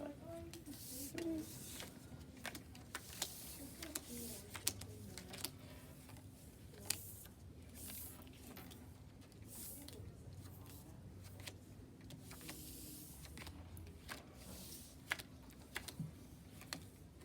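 Cards for the game Trash being dealt by hand onto a table, a steady run of light soft slaps and ticks in quick succession, close and fairly quiet, with faint voices murmuring in the background.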